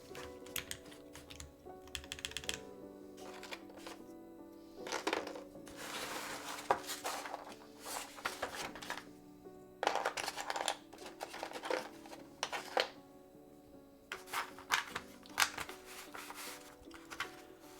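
Typing on a mechanical keyboard with stabilizers, clacky keystrokes in irregular bursts with pauses between them, close but fairly quiet, no talking.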